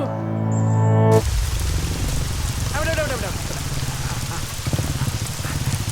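In a scene from the Malayalam film Myself Clement, steady rain falls outside, a dense hiss that starts abruptly after a brief tonal opening and continues evenly, with a faint voice briefly heard in the middle.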